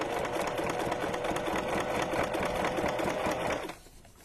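A sewing machine stitches fabric for a junk journal cover with a steady, close mechanical whir that runs without a break, then cuts off shortly before the end.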